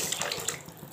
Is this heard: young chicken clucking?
no